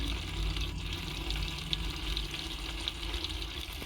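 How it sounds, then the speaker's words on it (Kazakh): Petrol pours into a 13-litre fuel tank with a steady, close gurgling and splashing flow under a low background rumble, and no one speaks. "Мен бензинді құйып тастаймын бағарлығын."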